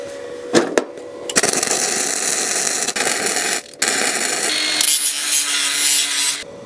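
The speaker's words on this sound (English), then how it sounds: "let's finish the weld." MIG welding a bar with a SIP Tigren 120amp welder: a close, loud, continuous crackling buzz broken by a few short pauses between bursts.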